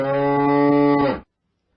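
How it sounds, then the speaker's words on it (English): A bull gives one long, loud, close moo lasting over a second, then abruptly stops into silence. "There was a bull at Bashir's house"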